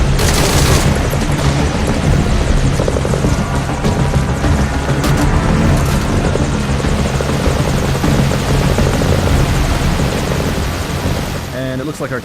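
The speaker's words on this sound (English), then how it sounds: "it looks like our chopper is taking fire" In the video game Metal Gear Solid V: Ground Zeroes, a helicopter's loud, steady rotor roar fills the air while it takes gunfire, with bursts of shots and booms mixed into the dense din and a voice talking over it.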